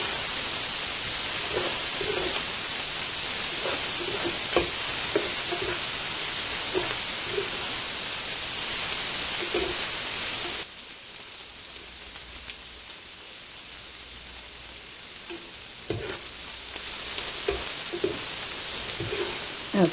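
Onions softening in bacon fat sizzle with a steady, rain-like crackle, broken by occasional soft knocks of stirring; the sizzle drops quieter midway, then rises again.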